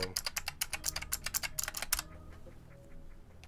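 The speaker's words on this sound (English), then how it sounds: "I'm way more excited for this now that I know these keys feel good." Fast, fairly quiet typing on a keyboard fitted with a new cheap keycap set: about two seconds of crisp, uneven key clicks, then near silence.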